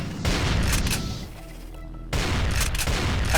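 Rapid bursts of plasma rifle fire in a modded Doom 2, loud and dense, broken by a short quieter stretch of mechanical reload clatter before the shooting resumes.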